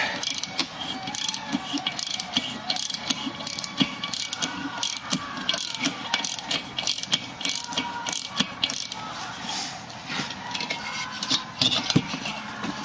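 A tap cutting new threads into an engine's spark plug hole, a continuous close gritty rasping and ratcheting with uneven clicks as the tool is turned, no speech.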